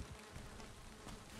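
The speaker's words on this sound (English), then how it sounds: "I hear bees. That means there's a spawner." Bees buzz from a spawner in the video game Valheim, a dense, steady swarm drone that fills the whole moment without pause, fairly close and alone with no voices.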